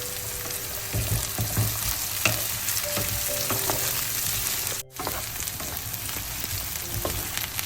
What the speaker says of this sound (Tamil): இந்த வெங்காயம் நல்லா இப்போ பொரிஞ்சு கொண்டு வந்துட்டுது.